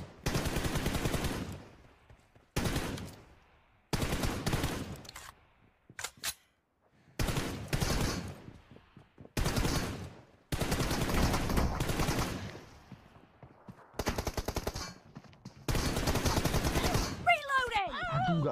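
Shotgun and pistol fire in a first-person shooter team deathmatch game, repeated loud bursts of gunshots in separate clusters with short gaps, some rapid strings, with people talking in between.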